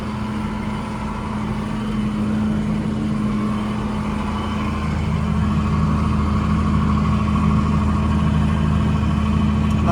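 A snow plow truck's engine drones steadily while driving across a driveway during a snowstorm, a low constant rumble with a strong hum that swells slightly louder toward the end, close and uninterrupted by speech.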